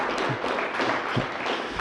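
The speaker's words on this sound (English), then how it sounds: "let's give Barbara and Seven Cities Productions a round of applause" A round of applause from the audience at a political forum, dense steady clapping filling the room for a couple of seconds with no talk over it.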